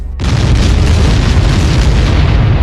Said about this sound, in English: There was this tremendous explosion, almost like a geyser going off.